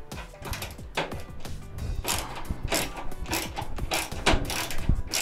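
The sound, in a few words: Phillips screwdriver loosening a tight screw on a microwave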